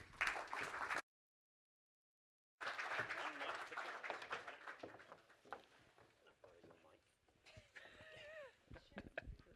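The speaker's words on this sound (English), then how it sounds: "Give them a round of applause." Applause from a full-house audience at an energy policy panel event, coming in brief bursts around a gap of silence, with scattered claps and some talk as it trails off.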